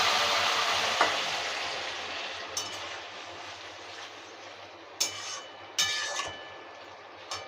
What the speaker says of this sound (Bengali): এবার তরকারিটা সাঁতলে দেবো।